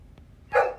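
A pet dog lets out a single short, sharp bark indoors, fairly close, after a moment of near quiet.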